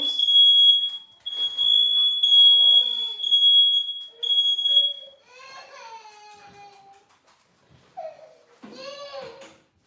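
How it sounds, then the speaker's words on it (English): Shrill, piercing beeps from a smoke alarm set off by olive oil smoking in a home kitchen pan, sounding in repeated long bursts, followed by people talking and exclaiming. "It's got a low smoke point, so we'll set that alarm right off."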